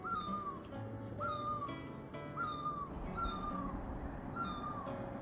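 A bird sits in a tree in a hill forest and repeats a clear, rising tonal call about once a second, five or six times, loud and close over a steady background hum with no talk.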